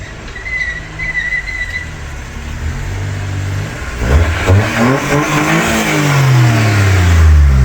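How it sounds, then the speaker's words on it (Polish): A car drives off nearby after parking, its engine revving up and rising in pitch as it pulls away, loud and close, with a brief whistle-like tone early on. "Trzeba się usunąć, bo Jacek jedzie"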